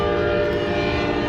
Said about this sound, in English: Little train.